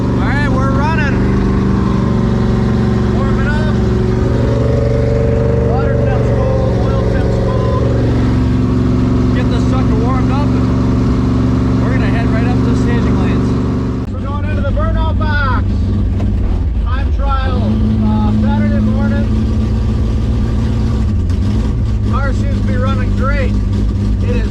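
A 1965 Impala SS drag car engine warms up in the staging lanes, a loud, deep, steady idle with blips of revving and a brief dip midway, while people talk over it.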